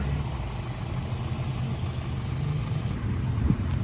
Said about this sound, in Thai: เครื่องยนต์เดินเรียบเสถียร